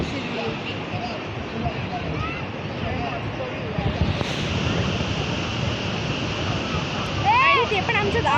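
Ocean waves roll onto a beach near a village in a steady, loud surf wash, with wind and people talking and calling over it.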